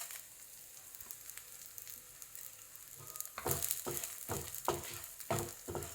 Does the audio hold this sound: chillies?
yes